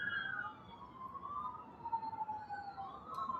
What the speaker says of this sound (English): I'm hearing the ambulance